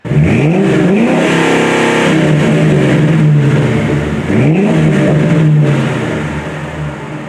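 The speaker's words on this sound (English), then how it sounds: "This car does have 40 series Flowmaster mufflers on it." A Ford Crown Victoria Police Interceptor fitted with Flowmaster 40 series mufflers revs hard twice, each rise climbing into a loud, sustained roar before easing back toward idle, up close and alone.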